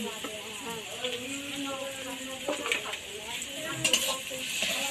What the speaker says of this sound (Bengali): এই ভালোভাবে রসুন পেঁয়াজের সাথে মিশিয়ে ভালোভাবে ভেজে নিচ্ছি